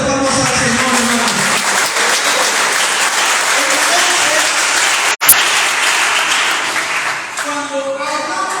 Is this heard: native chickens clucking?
no